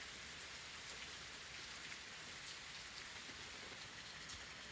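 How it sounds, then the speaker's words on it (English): Rain falls outdoors in South Mississippi as a faint, steady, even hiss of drops with no other sounds. "It's raining. Out here in South Mississippi, it's raining."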